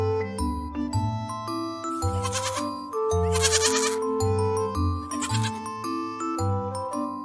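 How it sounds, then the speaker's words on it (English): Goat bleats ring out loud and close over a bouncy musical backing with bell-like chimes, a few quavering cries in the middle of the tune. "Goat."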